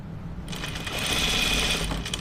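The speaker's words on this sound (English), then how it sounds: "I'm going to sew my binding right sides together to this edge here at a pretty, like a 1/4 inch seam." A sewing machine stitches fabric binding right sides together along a dress edge at a quarter-inch seam, starting after a brief pause and running as a steady, close mechanical whir with no talking.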